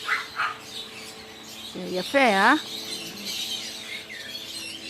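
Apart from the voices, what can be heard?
birds calling in a garden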